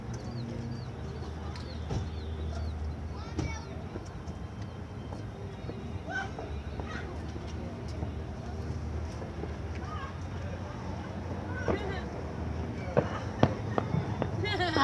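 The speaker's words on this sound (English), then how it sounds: "I am here on July 1st watching fireworks" Fireworks on July 1st go off at a distance as scattered pops and crackling bursts, irregular and fairly faint, over an outdoor background with occasional louder bangs toward the end.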